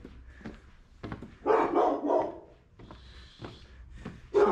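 Dog barking on a street in Muğla, Turkey, a few sharp barks and short yips spaced irregularly, near and moderately loud over quiet street ambience.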